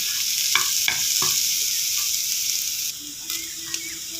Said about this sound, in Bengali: নেড়ে চেড়ে আমি আরও 2-3 মিনিট ভেজে ব্রাউন কালার করে ভেজে নিচ্ছি।